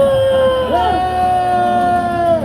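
A rally crowd lets out a sustained collective shout, one long sustained held cry rising in pitch and holding loud for about two seconds.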